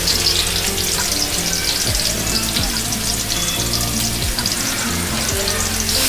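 Fenugreek seeds fry in hot oil for a Telangana fish curry, a dense continuous sizzle with crackling and occasional stirring scrapes, close and steady.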